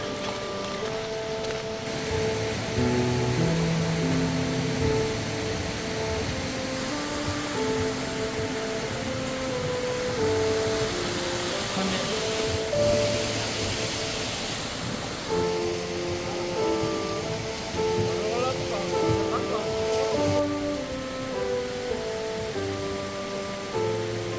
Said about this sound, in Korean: 물소리도 좋고 너무 좋아요.